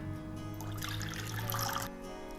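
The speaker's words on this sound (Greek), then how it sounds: "Σε ένα μπολάκι θα ρίξω το ελαιόλαδο, το νερό μου" Olive oil and water poured into a small bowl, a close, continuous liquid splashing and trickling that swells midway and then stops.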